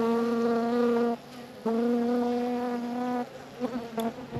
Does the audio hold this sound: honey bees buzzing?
yes